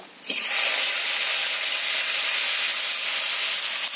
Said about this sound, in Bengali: এই করার মধ্যে দিয়ে দিতে হবে সর্ষের তেল দিয়ে দিতে হবে কালো জিরে ফোড়ন এতে দিয়ে দিতে হবে কেটে রাখা আলুগুলো